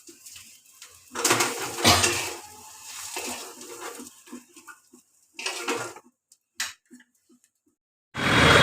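Metal pots and a bowl clink and clatter in a kitchen as a freshly ground kharkul paste is scraped out, with scattered knocks and scrapes between short pauses.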